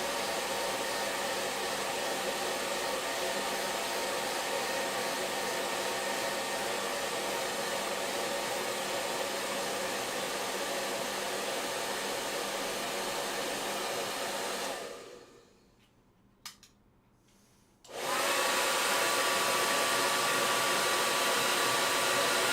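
A hair dryer blowing steadily on a watercolour painting, loud and close with a constant whooshing roar, cutting off for a few seconds before switching back on.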